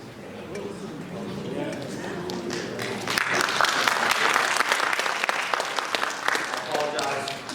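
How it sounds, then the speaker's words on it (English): Audience applause at a state and house candidate political debate, clapping that swells suddenly into a loud, dense burst partway through, with a voice talking before it begins. "you do have to hold the applause till the end of the day"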